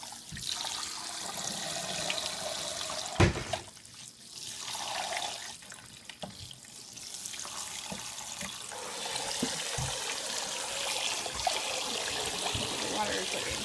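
Tap water runs steadily into a sink while blueberry-dyed yarn is rinsed, a continuous splashing wash with a brief clunk and faint talk over it.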